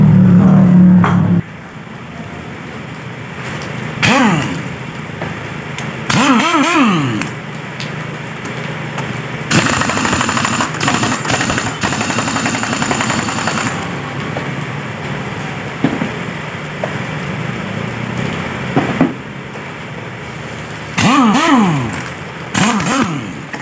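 While CVT pulley shaft bolts on a Honda Beat scooter are tightened, repeated bursts of an impact wrench whir and rattle, some several seconds long, separated by quieter gaps with background engine noise.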